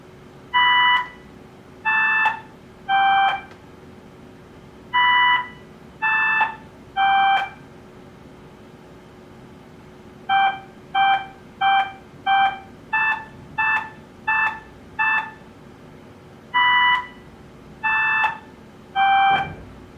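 A simple electronic beeping melody of Hot Cross Buns on a digital recorder: three descending notes played twice, a quick run of repeated notes, then the three-note phrase again, clear and alone.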